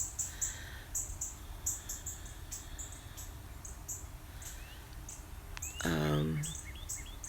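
Several birds chirp and trill in the distance at sunrise over a soft background hum, with one brief descending warble near the end.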